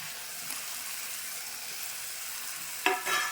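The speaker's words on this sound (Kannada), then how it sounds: "ಆಲೂಗಡ್ಡೆ ಹಾಕೊಂಡು ಇದ್ರೊಳಗೆ ಒಂದು ಸ್ವಲ್ಪ ತಿರುಗಬೇಕು" Raw potato pieces dropped into hot spicy oil fry with a steady soft sizzle, then a brief louder clatter and burst of sizzling as they are stirred near the end.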